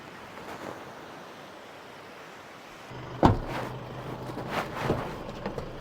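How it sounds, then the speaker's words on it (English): Ocean waves wash onto a beach near Babinda, Queensland, as a steady soft hiss of surf, with a few louder breaking surges and wind rumble in the second half. "What a lovely beach."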